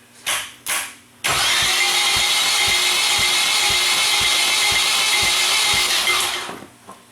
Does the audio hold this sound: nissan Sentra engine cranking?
yes